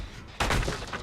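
A generator being broken by the Pig killer in the Dead by Daylight video game: a sudden, close, crunching burst of noise that rises out of low background sound and rattles for under a second.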